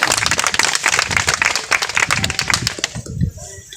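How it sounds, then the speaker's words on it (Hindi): Many hands clap at a village gathering in Hasanpur Katauli, a dense burst of close applause that thins out and fades near the end. "तालियां बजनी चाहिए।"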